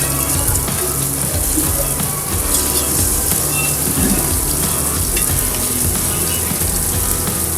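Surmai fish, flipped onto its other side, fries in a pan with a little oil, giving a steady, close sizzle that runs unbroken throughout with no talking.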